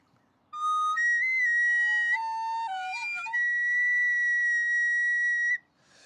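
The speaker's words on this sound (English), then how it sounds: "the recorder. I love this instrument." A recorder plays a few sustained, breathy notes with one quick run of changing pitches in the middle, clear and close, alone for about five seconds.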